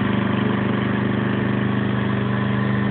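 A generator engine idles outside a house, a loud, close, steady mid-pitched drone with a regular pulsing throb that holds unchanged from start to finish, no talking over it.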